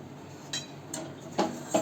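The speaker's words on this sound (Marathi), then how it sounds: "चिकट असतं ना पीठ, त्याच्यामुळे थोडंसं तुम्हाला भांड्याचा आवाज येईल." Cooking pot clattering against a hard surface while sticky dough is mixed, a few sharp metallic clinks and knocks spaced irregularly over a quiet kitchen background.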